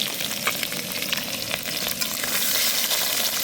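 Duck eggs fry in a pan at an outdoor picnic, a continuous crackling sizzle of hot oil with occasional sharper pops, close and fairly loud with no voices.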